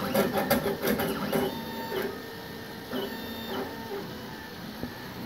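A K40 Chinese CO2 laser cutter and engraver runs close by at 100 millimeters per second, its stepper motors whirring with steady tonal whines and rapid ticking chatter as the head moves back and forth, no voices over it.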